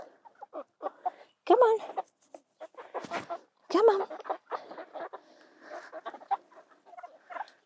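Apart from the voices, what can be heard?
chicks and roosters clucking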